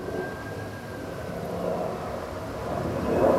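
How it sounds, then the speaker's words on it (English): A distant airplane drones faintly overhead in a quiet outdoor setting, a steady low hum that swells slightly toward the end. "Hear the airplane?"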